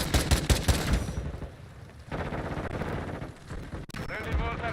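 Rapid bursts of automatic gunfire in a first-person military shooter game, loud and dense, with shouted voices over the shots and a brief lull near the middle before firing resumes.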